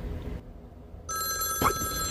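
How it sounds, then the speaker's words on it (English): A telephone rings with a bright electronic trill that starts about halfway through and keeps going. A brief rustle cuts in during the ringing, over a quiet room. "His phone was ringing."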